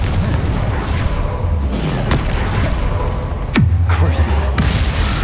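Confringo spells fire off in Hogwarts Legacy with several sharp cracks and booms, the loudest a heavy blast followed by a low rumbling hum, over busy game noise and a voice.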